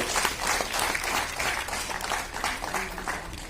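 Sustained applause from a crowd at a World Blood Donor Day event in Guwahati, honouring NDRF and BSF blood donors; dense, steady clapping holds evenly for several seconds, fairly close, with no voices.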